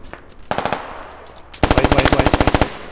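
Loud automatic gunfire aimed at the player in the tactical shooter Squad. A short burst comes first, then a long rapid burst of evenly spaced shots, all close and harsh.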